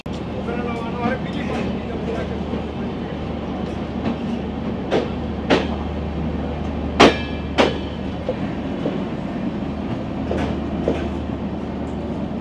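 The Bandhan Express, running Khulna to Kolkata, pulls out of Jessore Junction with a continuous heavy rumble, broken by sharp clanks and clicks of wheels over rail joints, loud and close from inside a carriage.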